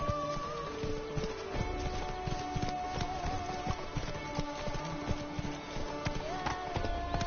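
Roach the horse from The Witcher 3 moving at speed, hooves clip-clopping in a quick, steady rhythm with an occasional whinny, heard close under light game ambience and some brief talk.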